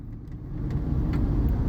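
A car drives past nearby, its low engine rumble swelling in loudness after the first half second and holding steady, with no voices.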